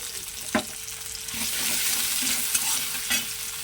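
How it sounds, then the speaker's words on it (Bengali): Chopped onions fry in a pan with a continuous close sizzle. Several scraping knocks of a spatula stirring them sit over the sizzle, which grows a little louder partway through. "শুধু পেঁয়াজ কুচি দিচ্ছি, শুধু পেঁয়াজ কুচি দেবো"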